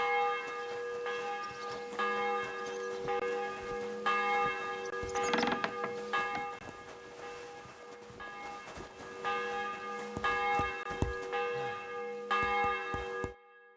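A church bell tolls repeatedly in the video game Kingdom Come: Deliverance II, with evenly spaced, resonant strikes whose ringing overtones sustain between hits, heard at a moderate distance against quiet background sounds.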